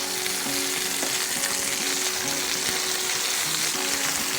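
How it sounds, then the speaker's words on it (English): Pork loin sears in a hot pan with a steady, dense, close sizzle that holds evenly throughout, with faint crackles and no talking. "If you sear the outside of that pork loin, it actually locks in a lot of the moisture into the pork"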